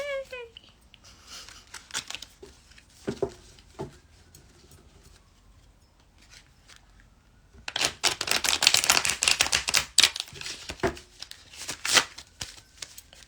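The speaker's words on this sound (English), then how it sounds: "That was a terrible shuffle." Quick papery riffling of playing cards in short bursts, then a longer flurry of shuffling, with brief moments of talk between.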